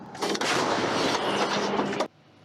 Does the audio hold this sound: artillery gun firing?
yes